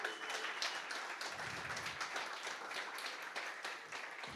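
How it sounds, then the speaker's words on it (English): Audience at a pitch night summit gives a round of applause, quiet but steady clapping with individual claps audible and a slight uneven rhythm. "Give them a round of applause."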